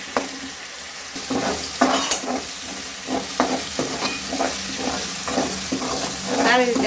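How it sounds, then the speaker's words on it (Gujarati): Tomato, onion and chili sizzle in hot oil for tempering millet flatbread while a spoon scrapes and stirs the pan in repeated strokes. No one speaks. "હવે ટમેટું અને ડુંગળી ને મરચું આપણે તેલમાં એકદમ તળવા દઈશું"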